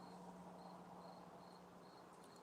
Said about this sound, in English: I've never heard crickets in my yard.